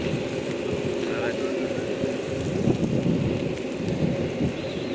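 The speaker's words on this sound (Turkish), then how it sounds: "Yağmur şu an hala ya." Steady heavy rain hisses throughout, a constant dense downpour with faint low rumbling beneath it.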